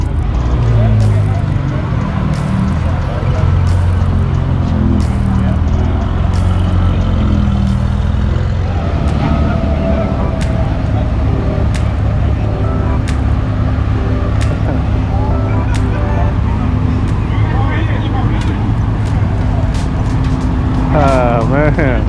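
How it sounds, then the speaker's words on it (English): Cars idling and moving through a busy outdoor car show, with a steady engine and exhaust rumble under frequent crowd chatter and someone talking nearby. "Oh, the exhaust system,"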